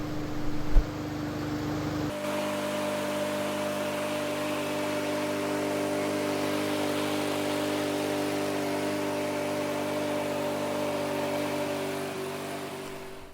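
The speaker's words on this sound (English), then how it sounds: "My mower requires the lever to be pressed down in order to run it" A walk-behind lawn mower engine starts with a sharp pull, then idles steadily, its lever clamped down, warming the oil before an oil change; a close, even mid-pitched drone holds without a break until near the end.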